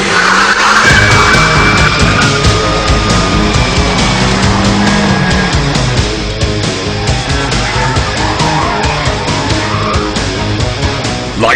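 A rear-wheel-drive Nissan 200SX coupe with 200 brake horsepower is driven hard, its engine roaring close by while the tyres screech and skid almost without a break.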